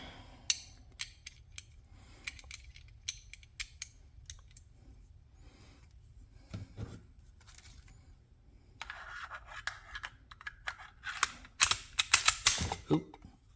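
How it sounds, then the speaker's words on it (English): Sig P365x pistol with a Holosun 407K sight being reassembled by hand: scattered close metallic clicks and sliding mechanical snaps, sparse at first, then a denser burst of sharp clacks near the end, over a quiet low hum. "let's put the gun back together"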